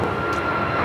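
An Alaska Airlines Boeing 737 MAX 9 jet roars on takeoff at LAX, a continuous, loud, steady engine rush with a thin whining tone running through it.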